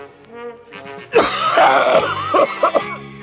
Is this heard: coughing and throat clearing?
yes